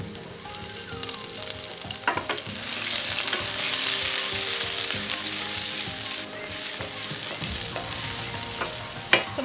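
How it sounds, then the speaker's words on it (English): Onion, garlic and scallion fry in hot oil for a Jamaican-style vegan ackee breakfast, a loud, steady close sizzle with occasional stirring scrapes and a clack at the end. "Going in with my oil, in with my garlic, scallion,"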